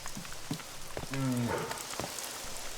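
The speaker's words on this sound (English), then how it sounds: "rain's pounding down" Steady video game rain from theHunter: Call of the Wild patters across the scene with a hiss during a thunderstorm, broken by a brief low thunder rumble and a few soft knocks.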